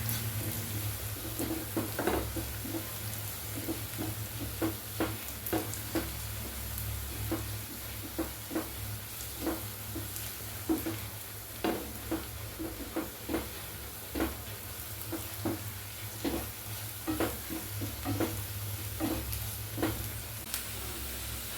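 Onions for a seafood curry sizzle steadily in a pan, with a spoon scraping and tapping at the pan in an irregular rhythm over a soft, continuous frying hiss.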